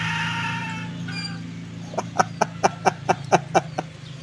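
A jungle fowl hen, a former male, clucks in a quick series of about eight sharp, close clucks after a quieter start with background hum.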